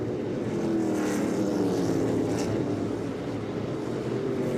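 NASCAR K&N Pro Series West race cars at Meridian Speedway roar steadily, a dense engine drone with rising and falling pitch as cars sweep past, loud and continuous without any talk.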